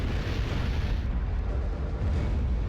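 A rocket launcher fires in the Dino Crisis 2 video game, a loud, dense, rumbling blast that stays heavy and noisy across the whole stretch with no clear pauses.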